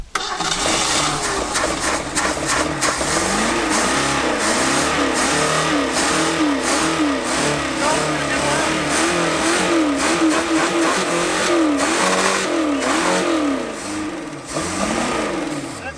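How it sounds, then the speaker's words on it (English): Engine of an abandoned truck, not run in 12 years, revving hard past 6,000 RPM: a loud, continuous high-pitched roar with rapid rising and falling pitch swings and clattering valve noise, dropping briefly near the end. "It was like pegged past 6 when it was like making all that valve noise."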